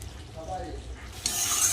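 Ghee poured over a hot boiling vegetarian curry of elephant foot yam brings a quiet stirring scrape, then a brighter hiss that swells in the second half of a short, close burst.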